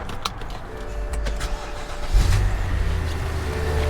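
A 2007 BMW X5 engine cranks and catches, then settles into a steady low idle rumble, close by.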